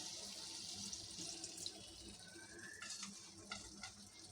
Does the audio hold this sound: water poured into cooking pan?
yes